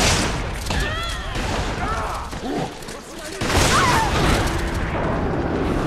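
Gunfire and booming blasts in a Resident Evil 5 Versus match, dense bursts of shots over a loud, busy mix with a voice talking through it.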